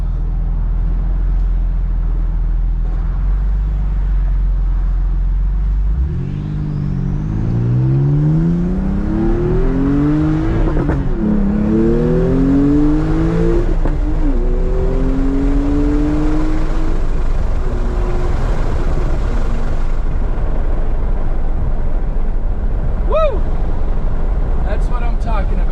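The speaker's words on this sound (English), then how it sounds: "The sound of the engine on that acceleration," A Porsche 911 Carrera fitted with sport catalytic converters idles low, then its engine note climbs loudly through several rising pulls and gear changes before settling into a steady roar.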